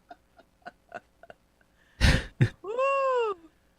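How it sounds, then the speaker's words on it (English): A nearby person gives a loud sniffle followed by a short cough, then a hoarse, strained vocal noise. Fainter sharp breath or sniff sounds come first, and the whole sequence is a deliberate performance heard alone, close to the microphone. "Sniffle, cough."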